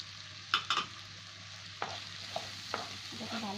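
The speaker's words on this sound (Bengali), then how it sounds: "এটাকে ভালো করে মিশিয়ে নিচ্ছি।" A spoon scrapes and taps a pan as turmeric, cumin and chili powder are stirred into an omelet curry, a few sharp knocks spread across a quiet sizzle, with no voices.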